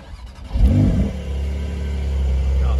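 A 2021 Porsche 992 Targa 4S with PDK starts up: a short starter whir, then a loud rising rev flare that settles into a steady, deep idle rumble, close by.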